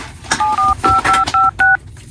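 A telephone is dialed in a horror video game, seven or eight crisp two-tone keypad beeps in quick, even succession, loud and clear, with a faint background hum.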